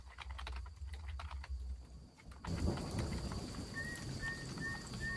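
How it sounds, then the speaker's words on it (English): Nature recording of rain with rolling thunder played by accident, starting as faint patter with tapping on top, then swelling into steady heavy rain and thunder with chirping insects. "Why is he playing crickets and rain in the background?"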